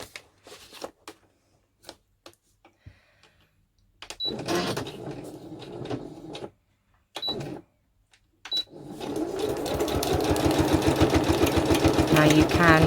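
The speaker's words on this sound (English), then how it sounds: "move my sewing machine in. And all I'm going to do is just literally sew down the middle of this" A sewing machine whirs in short bursts, then runs steadily in a fast rhythmic stitching down the middle of a craft tag folio for several seconds, close and clear.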